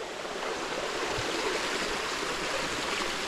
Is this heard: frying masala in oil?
no